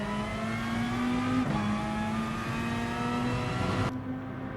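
Race car in Gran Turismo Sport powering out of a hairpin corner, engine note loud and close, pitch climbing steadily through the gears with a brief dip at a shift, sustained throughout.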